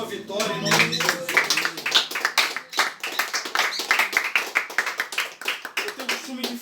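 A church congregation at an apostolic community service claps together in a burst of applause, hands clapping steadily at moderate volume under an excited preacher's voice.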